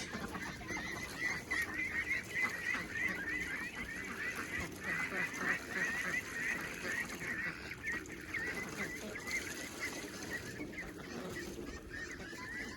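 Young ducks on a flower farm, a long run of rapid honking quacks, close and fairly loud, continuing throughout with a few brief pauses.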